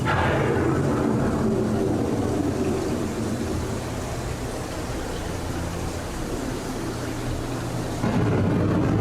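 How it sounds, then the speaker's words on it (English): A simulated thunderstorm effect on the EPCOT Living With The Land ride: a steady, loud rumbling roar fills the whole stretch without a break, then swells again near the end. "Storm may seem violent and destructive to us, but to nature, it's a new beginning in the cycle of life."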